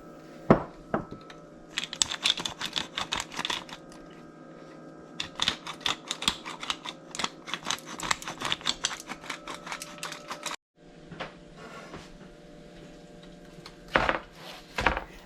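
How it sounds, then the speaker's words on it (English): Metal pans clatter as they are knocked, shuffled and put into an oven, in bursts with rapid sharp clinks, pauses between, and a brief metallic bang near the end. "I'm just going to put these pans in the oven"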